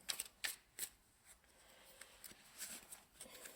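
Tarot cards from a Vice Versa deck being shuffled and drawn: a quiet run of soft papery flicks and riffles, with a few sharper snaps near the start, in a still room with no talking.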